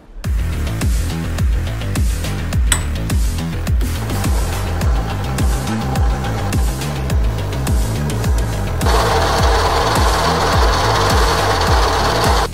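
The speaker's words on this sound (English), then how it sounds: "I'll drill this one over there now" Drill boring through a metal cross member for an industrial-style pendant lamp, a steady loud grinding churn with rhythmic rasping pulses that grows harsher and brighter in the final few seconds, no talking.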